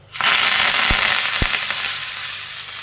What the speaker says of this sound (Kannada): ನೋಡಿ, ಎಣ್ಣೆ ಕಾದಿದೆ. ಒಂದು ಒಗ್ಗರಣೆ ಕೊಟ್ಕೊಂಡು ಸ್ವಲ್ಪ ಸಾಸಿವೆ,